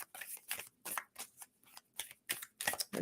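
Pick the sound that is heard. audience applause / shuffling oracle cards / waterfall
shuffling oracle cards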